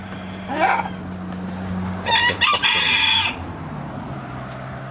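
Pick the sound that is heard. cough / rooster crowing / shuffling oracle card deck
rooster crowing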